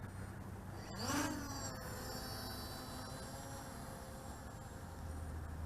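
MJX Bugs 2SE quadcopter motors spin up with a rising whine, then hold a steady buzzing drone outdoors over breezy background noise.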